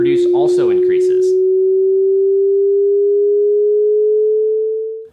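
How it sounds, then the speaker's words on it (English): A pure, steady sine tone starts loud and slowly climbs in pitch over several seconds. A short burst of speech opens it, then the tone rings alone and fades out at the end. "have the speakers output the frequency, you will see that as the frequency increases, the pitch of the sound produced also increases"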